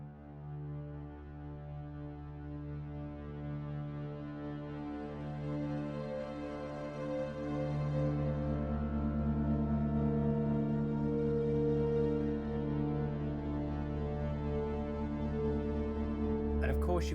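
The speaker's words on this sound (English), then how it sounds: "And we have the bitey bellow drone." A sustained, rich synthesized drone from the Spitfire Audio Albion V library's bitey bellow patch, steady and harmonically dense, slowly swelling in loudness over about seventeen seconds with no voices.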